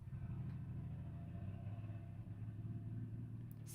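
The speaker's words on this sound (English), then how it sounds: "There's got a really loud engine right outside my bedroom window." A loud car engine idles and rumbles just outside a bedroom window, a steady low drone heard through the glass with slight swells, continuous throughout and with no voices over it.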